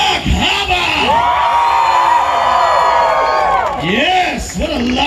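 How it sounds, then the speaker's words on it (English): A lively crowd at the opening night of Dark Harbor cheers, whoops and yells loudly and without a break, with the voices of children mixed in. "Yes, what a lively crowd you are."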